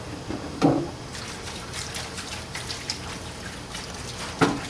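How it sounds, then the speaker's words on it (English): Paint thinner poured into a container while cleaning a paint spray gun: a steady, soft liquid trickle over a few seconds, with a couple of brief knocks of the container. "now we'll pour some thinner in here and let this stuff soak up"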